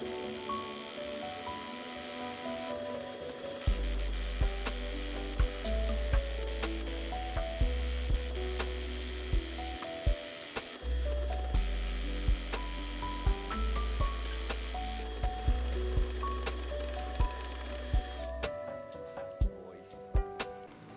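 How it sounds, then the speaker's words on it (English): A power drill bores out a hole in a plastic part while working on a Datsun, a steady low motor drone running for about fifteen seconds with one brief pause, beneath background music and occasional talk. "So let's just finish drilling that"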